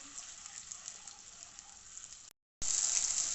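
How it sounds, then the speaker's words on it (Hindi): Ground onion hits half a cup of hot oil in a karahi, giving a steady bright sizzle that cuts out briefly and then returns louder and harsher. "कढ़ाई में मैंने हाफ कप ऑयल डाला और सबसे पहले मैं प्याज डालूंगी जो कि मैंने पीस के रखी हुई है"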